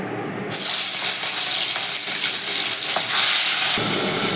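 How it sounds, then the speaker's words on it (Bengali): Tangra fish hits hot mustard oil in a wok with a sudden loud sizzle that holds as a dense, close, continuous fry, then drops off sharply near the end. "কড়াইতে সর্ষে তেল দিয়ে দিয়েছি তেলটা গরম হয়ে গেছে এবার আমি মাছগুলোকে একটু ভেজে নেব"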